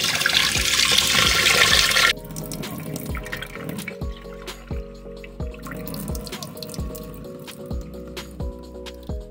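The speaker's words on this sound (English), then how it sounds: "just give it a nice rinse and just drain that water off" Rinse water from soaked Jamaican sea moss (Irish moss) pouring off in a loud splashing rush for two seconds, then quieter drips, trickles and soft kitchen clunks.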